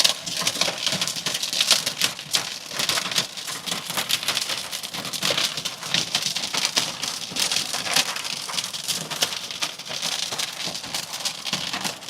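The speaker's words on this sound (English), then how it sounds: "here comes the hail" Hail falling hard during a storm, a dense, loud, continuous clatter and patter of pellets striking surfaces that holds steady throughout, with no talk over it.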